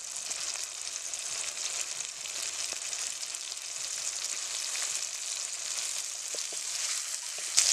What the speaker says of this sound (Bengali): দিয়ে দিচ্ছি ইঁচড়।